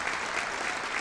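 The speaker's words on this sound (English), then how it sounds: "Let's give her a round of applause." An audience at a high school National Honor Society ceremony breaks into a short burst of applause. Many hands clap together in a dense, even wash of sound, with no talking heard over it.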